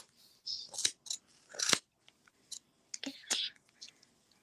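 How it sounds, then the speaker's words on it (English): Scissors snip at a yarn pompom being trimmed, giving close, crisp crunchy cuts in irregular bursts separated by quiet pauses. "Some ASMR for you people who like that, like scissors snapping."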